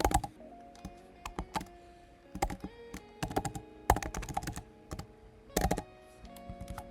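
Code being typed on a computer keyboard: irregular bursts of sharp key clicks with short pauses between them, fairly quiet and close, no voices.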